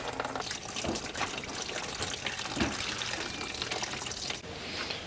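Coolant draining from a BMW F82 charge cooler during a DIY replacement, a continuous splashing trickle of liquid with a few heavier gurgles and clunks, close by and fairly quiet.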